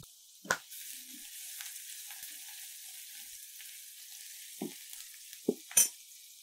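Garlic and onion sauté lightly in a pan. A faint, even hiss of sizzling runs throughout, with a few brief utensil taps and clicks.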